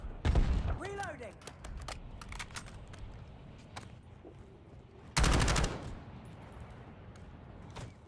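Gunfire in Warzone, a loud burst of rapid shots near the start and another dense burst later, amid scattered game effects and intermittent voices.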